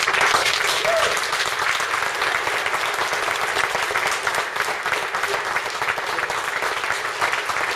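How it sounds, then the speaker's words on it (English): Sustained audience applause for Grandmaster Flash at an Albany event, a dense, even wash of clapping that carries on for several seconds without letting up. "Let's put our hands together for the one and only."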